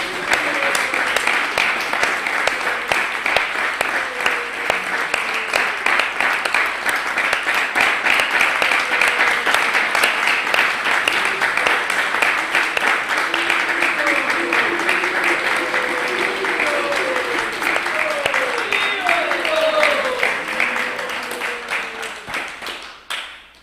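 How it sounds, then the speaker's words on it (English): A temple audience at ISKCON Dallas breaks into a long, steady round of applause, dense clapping sustained for over twenty seconds before tapering off at the end, with faint voices mixed in. "I think we give a little round of applause for Nityananda and our..."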